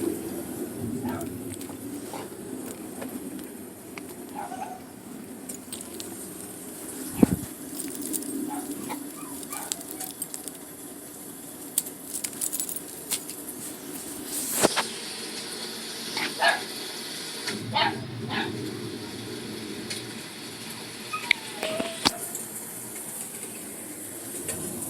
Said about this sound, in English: Can't you hear him barking?